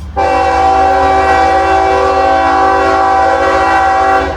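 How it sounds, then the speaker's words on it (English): A long southbound mixed manifest freight train with over 700 axles rumbles past at Cowan, Tennessee, a loud, steady, tonal roar that starts abruptly and holds unbroken to the end, with no voices. "This train's got over 700 axles, and he's headed south."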